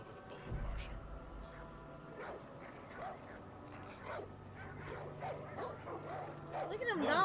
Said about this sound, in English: Look at them dogs.